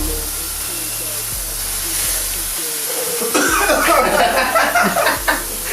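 A vape pen puffs and hisses out vapor, filling a room, with a broad airy rush swelling in the second half over a steady low hum and a faint background tone.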